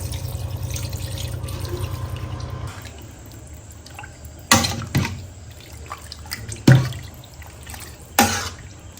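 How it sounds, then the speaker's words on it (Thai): Clean water pours into a pot of pickled bamboo shoots for a yellow curry, a steady splashing stream for about three seconds, followed by several sharp knocks and clatters from the pot. "ก็ใส่น้ำสะอาดลงไปน้ำกองนะคะผสมเทให้ท่วมเลยค่ะ"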